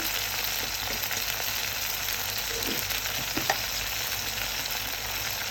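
Onion paste with garlic paste, salt and spices frying in a pan for a water lily curry, a dense, continuous close sizzle with a few faint stirring scrapes underneath.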